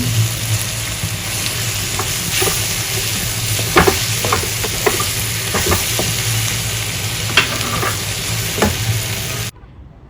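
Continuous sizzling of masala sautéing in butter in a pan, with occasional scraping and stirring clinks, no talking, ending abruptly.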